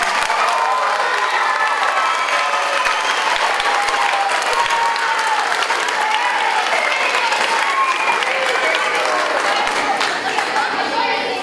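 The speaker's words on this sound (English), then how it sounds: "stand up, turn around, and accept a round of applause" Applause and cheering from families at an elementary school graduation ceremony, loud continuous clapping mixed with shouts and children's excited voices, holding steady throughout without a break.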